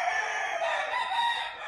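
A rooster crows among farm poultry, one long, loud, drawn-out call near the microphone that fills the whole moment.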